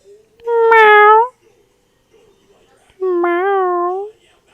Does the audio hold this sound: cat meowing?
yes